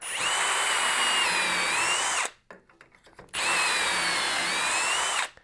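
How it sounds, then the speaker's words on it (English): A power drill whines loudly through wood in two long bursts separated by a short pause, close to the microphone, drilling holes in an oscillating sander stand. "I'm only going to drill 2 holes, one at the beginning and one 1/3 of the way in"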